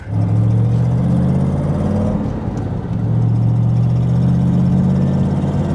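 A 1967 Corvette C2 Stingray engine while driving, a loud steady low droning rumble that dips briefly as if shifting and then resumes, continuous and close throughout.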